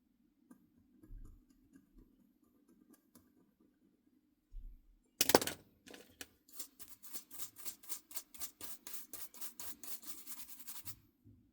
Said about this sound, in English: Just gonna scrap a bit for, again, that coating material.